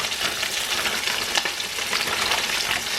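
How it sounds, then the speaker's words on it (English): A steady bubbling hiss of tortellini pasta hitting boiling water, busy and close, with no talking. "My water is boiling, so I'm going to go ahead and add these in."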